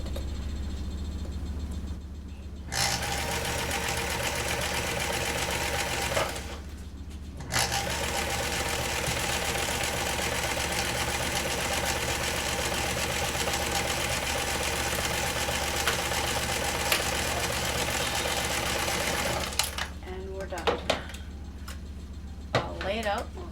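A sewing machine joins the final square of a 35-piece quilt, running steadily in long continuous bursts that start and stop with brief pauses in between, loud and close.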